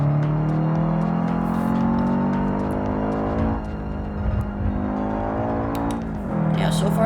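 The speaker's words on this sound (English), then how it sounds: "And now I am flooring it." A Subaru BRZ engine in the BeamNG.drive video game revs hard at full throttle, its tone climbing steadily through the gears with brief drops at shifts, loud and close, while someone talks over it.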